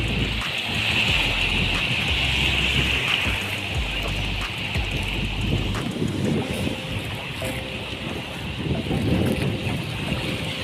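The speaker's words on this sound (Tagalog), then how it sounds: "Medyo malakas yung alon at yung hanging amihan." A boat out at sea is buffeted by strong waves and a gusty northeast monsoon wind, with a constant roar of wind against the microphone, splashing water and a low engine rumble underneath.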